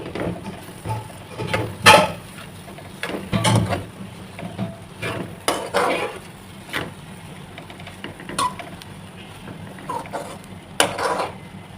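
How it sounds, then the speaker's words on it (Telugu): Egg fried rice with a little soy sauce being stirred in a pan, giving irregular scraping and clinking of a utensil against the pan at close range, with a soft background hum and no talk. "ఒకసారి కలబెట్టుకుందాం"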